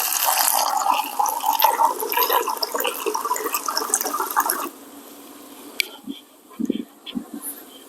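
Water poured off fermenting tomato seeds in a steady splashing stream for several seconds, then a few scattered drips and small splashes once the pour stops, with a voice speaking over it.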